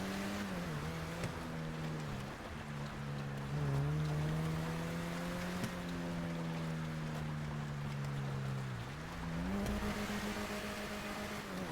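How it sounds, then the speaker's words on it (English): Video game car engine in GTA NoPixel, driven through snow, holds a steady droning tone that rises and falls with throttle changes, close and continuous throughout, with no talking. "this car handles so well in the snow"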